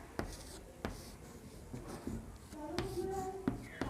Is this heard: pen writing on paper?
yes